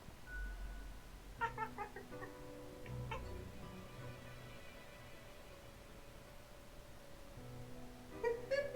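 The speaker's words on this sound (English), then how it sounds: "It's like cat chirping." In a video game, a cat gives a series of soft, tonal meows and chirping trills, heard in two short bursts separated by a quiet stretch with a steady electronic hum underneath.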